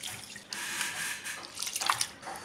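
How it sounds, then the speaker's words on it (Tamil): Rice is washed and squeezed by hand in bore-well water for idli batter, giving brief, soft, close sloshing and dripping sounds. "போர் தண்ணி தான் ஊற்றி நல்லா கழுவுறேன் பாருங்கள், நல்லா அழுத்தி கழுவணும்."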